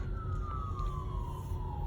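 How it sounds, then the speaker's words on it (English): Fire department emergency vehicle siren wailing at a distance, one steady descending tone sweeping down over faint traffic rumble, with no voices. "Oh, there's an ambulance."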